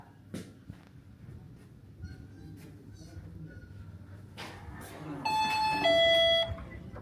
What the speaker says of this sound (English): I just rang the doorbell